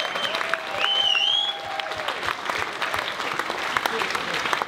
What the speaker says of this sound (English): please give big round of applause for Von Herzen Brothers.